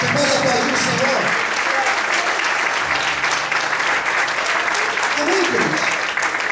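A church congregation claps steadily and loudly at a worship service, sustained dense applause throughout, with a voice speaking faintly underneath.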